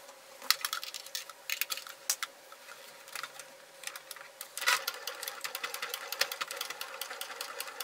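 A sewing machine stitches the fabric seam of a handbag in short, fairly quiet bursts of rapid needle clatter, stopping and restarting several times.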